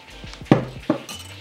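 A pet tugging at a kitchen drawer produces soft rattling knocks and two sharper clinks of cutlery or utensils shifting inside, irregular and fairly close, with no talking.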